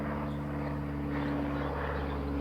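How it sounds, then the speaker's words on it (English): Biplane flying overhead, a steady droning propeller engine hum with a fixed low pitch, heard at moderate distance and holding constant throughout. "Oh, it's a biplane."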